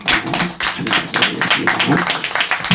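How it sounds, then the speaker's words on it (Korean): Audience at a village association inauguration ceremony claps in a short burst of uneven, close hand claps, with voices talking over the clapping. "우리 박수로 한번 이렇게"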